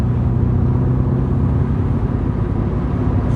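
An LS V8 swapped into a Porsche 944, running steadily across the rev range with a loud, continuous low rumble and whir, close up with no talking.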